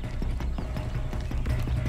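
A horse gallops in the video game Far Cry 6, its loud, rapid hoofbeats drumming steadily and close with no talk over them.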